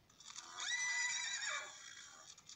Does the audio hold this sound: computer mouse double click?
no